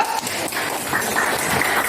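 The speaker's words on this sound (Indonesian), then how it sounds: "Tepuk tangan dulu" Students clap in a classroom, a brief burst of scattered applause that stays at an even level for a couple of seconds.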